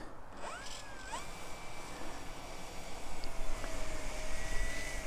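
A Turbo Timber Evolution RC plane taxis on the ground. Its electric motor whines with rising and falling pitch, gusty outdoor noise runs underneath, and the sound grows louder toward the end. No voices are heard.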